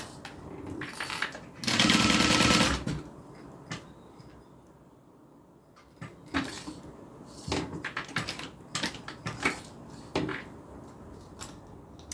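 A sewing machine stitching a handmade bag, with a loud burst of rapid stitching followed by scattered clicks, knocks and handling of fabric and tools.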